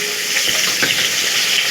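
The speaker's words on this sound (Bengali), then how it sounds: "আবার এই কড়ার মধ্যে একটু তেল দিয়ে আবার আলুটাকে ভাজবো।" Potatoes frying in hot oil in a wok give off a loud, steady sizzle throughout, with a few faint stirring scrapes underneath.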